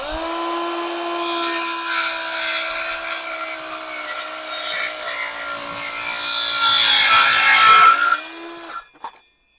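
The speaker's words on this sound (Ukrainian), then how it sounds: "пилочка, що в комплекті йде гостра і класно ріже" A Vitals Master ARg 18165 cordless circular saw cuts 30 mm wood at a 45-degree bevel, a loud steady whine that rises into a rough cutting roar, then spins down and stops near the end.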